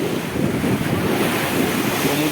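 Rough sea waves surge at the Digha estuary in a steady, loud wash of surf, with heavy wind buffeting the microphone throughout.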